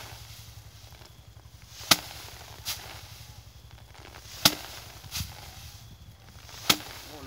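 Isan-style hand threshing of rice, with bundles beaten to knock the grain loose: sharp, spaced slaps ring out at irregular intervals over a low, steady background rumble.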